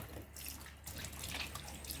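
Tap water runs steadily into a sink while a mud crab is being rinsed for Jamaican curry crab, a continuous close hiss with no talking.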